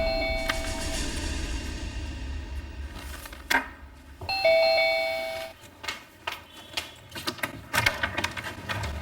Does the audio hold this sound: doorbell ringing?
yes